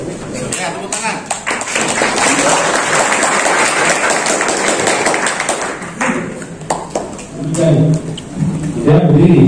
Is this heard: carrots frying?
no